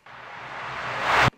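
Reversed snare reverb tail in a music production, a single swelling wash of noise that builds steadily louder over about a second and cuts off abruptly at its peak, heard alone.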